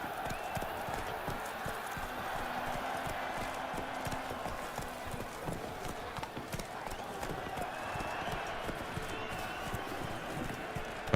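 Geralt's horse Roach gallops in The Witcher 3, with fast, steady hooves clip-clopping close by throughout and voices talking over the running.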